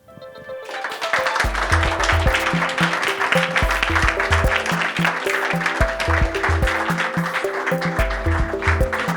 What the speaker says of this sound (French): Je pense qu'on peut encore applaudir chaleureusement Hussein et Salwa